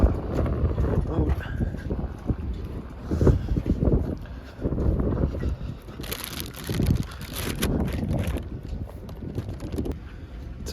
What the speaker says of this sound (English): The wind just won't let up